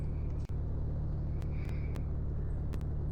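A car engine sets off on a road, a close, steady low rumble with faint higher clicks and a brief dip early on, no talking.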